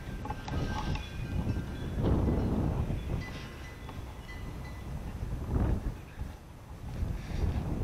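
Strong wind buffets the microphone on a street in Roxboro, North Carolina, rising and falling in heavy gusts with a rough low roar and rustle, no voices over it.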